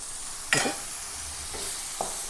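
Tomato pieces frying in oil with turmeric: a soft continuous sizzle broken by one sharp spatula scrape and two lighter stirring taps, close-up and quiet, with no talking.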